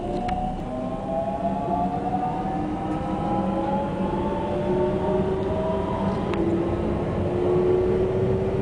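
An express train passes Gamagori station at speed, a steady heavy rail roar with a long sliding horn-like tone gradually shifting in pitch, continuous and close throughout with no voices.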